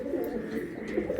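A Tiger Choco fancy pigeon coos in a soft, continuous low warble close by, steady and unbroken through the short stretch.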